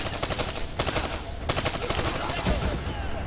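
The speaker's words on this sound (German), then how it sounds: "man kann hier wirklich schön durch die Wände schießen" Repeated bursts of automatic gunfire in Call of Duty Black Ops III, rattling in several rapid volleys at steady loudness over a busy game soundscape, with a voice talking faintly underneath.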